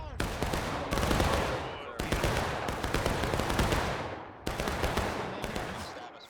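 Dense, continuous musket volleys from a Civil War-era line in the War of Rights game at a river crossing, crackling shots rolling and overlapping for the whole stretch, with brief pauses between bursts and faint voices underneath.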